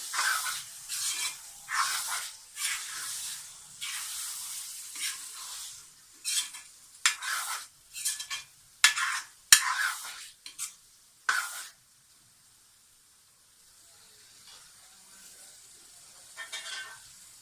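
Egg and minced meat curry with garam masala being stirred and fried in a pot, bursts of scraping and sizzling in uneven strokes that stop abruptly, then near quiet.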